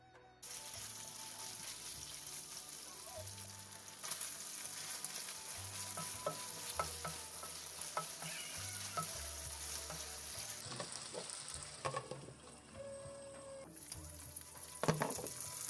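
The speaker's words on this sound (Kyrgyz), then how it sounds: "табага өсүмдүк майын куюп, жакшылап ысытып, этти салып 10-15 мүнөттөй күчтүү отто эт бышканча" Meat frying in hot vegetable oil in a pan over high heat for lagman, a constant soft sizzle with intermittent clinks and scraping, plus some running water and low background music.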